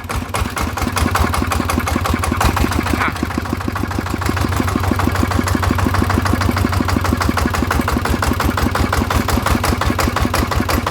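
Motorcycle engine that will not settle at idle after a home-fitted clutch spring change, running steadily close by with a fast, even pulsing throb and no voices over it.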